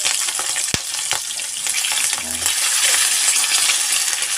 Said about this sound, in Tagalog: painitin mo lang yung mantika at ilagay mo yung isda